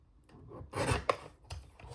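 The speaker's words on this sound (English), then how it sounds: "I'm just going to trim that little piece off" A small piece of scored paper trimmed away during a paper-craft folio build, giving a few close rasping, scraping strokes with a louder burst in the middle, heard alone without voices.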